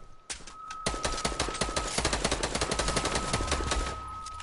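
Rapid automatic gunfire in the Fortnite video game, dense bursts of shots rattling continuously for several seconds with a steady high tone running underneath.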